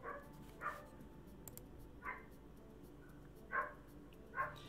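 Dogs barking at a distance, four or five faint, widely spaced barks over a steady low hum.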